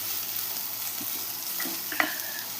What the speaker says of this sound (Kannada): ಹಾಗೆ ಕಂಪ್ಲೀಟಾಗಿ ಫ್ರೈ ಮಾಡೋಕ್ಕೆ ಬಿಡ್ತಾಯಿದ್ದೀನಿ. ನೋಡಿ, ಚೆನ್ನಾಗಿ ಫ್ರೈ ಆಗ್ತಾ ಇದೆ.